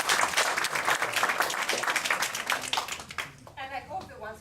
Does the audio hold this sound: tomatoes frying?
no